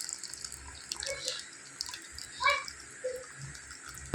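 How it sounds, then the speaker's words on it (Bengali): Whey draining off chhena, milk curdled for sweets, in a kitchen. It trickles and splashes faintly and unevenly, with a few brief louder gurgles. "জলটাকে আমি ঝরিয়ে নেবো এরকমভাবে"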